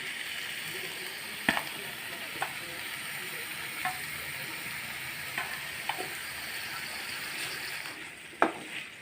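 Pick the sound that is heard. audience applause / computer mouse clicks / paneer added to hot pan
paneer added to hot pan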